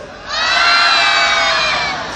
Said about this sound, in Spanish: todo el mundo gritará, ¡va! Más fuerte.